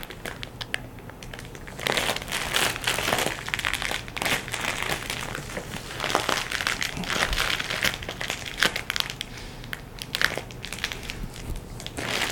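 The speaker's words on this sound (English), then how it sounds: "You can hear it releasing the air." A Space Bag To Go storage bag being rolled up from the zipper side to push air out, giving steady crinkling, crumpling plastic noise with a brief quiet start, then continuous close rustling and crunching.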